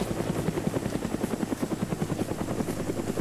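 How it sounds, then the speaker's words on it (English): Helicopter in a horror video game, rotor blades thudding in a steady rapid rhythm as it flies overhead, loud and continuous with no speech. "Who are these people with helicopters?"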